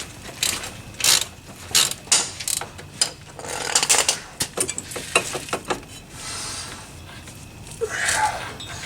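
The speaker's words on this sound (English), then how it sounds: "I'm going to get me a 13mm wrench," A 13mm ratchet wrench clicks in a run of short, close bursts while working on a wheel bearing of a 2004 Pontiac, with quieter pauses between strokes and no talk.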